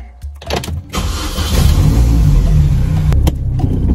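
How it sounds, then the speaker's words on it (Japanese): A Mini Cooper S with newly replaced valve springs, engine running as the car drives off, a low steady hum rising after brief mechanical clicks and thumps, fairly quiet and even once underway. "このエンジンの音めっちゃ静かなんですよ"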